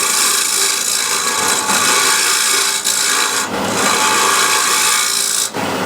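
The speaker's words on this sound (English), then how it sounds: "now I can use the scraper" A scraper works steadily across the bottom of a handmade wooden piece, producing a loud continuous rasping scrape with a few brief pauses between strokes.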